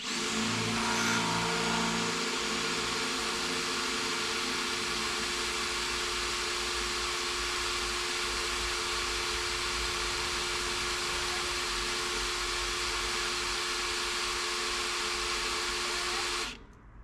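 A power drill bores a 5/16-inch hole, whining steadily and loudly for about sixteen seconds, then stops abruptly.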